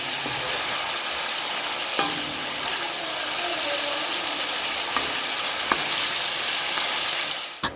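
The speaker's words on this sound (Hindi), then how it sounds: "कढ़ाई रख दी है, उसमें डाल दिया है तेल और पनीर को हल्का सा फ्राई कर लेते हैं।" Paneer frying lightly in oil in a kadhai makes a loud, continuous close sizzle, with occasional sharp clicks of a spatula and a clatter at the end.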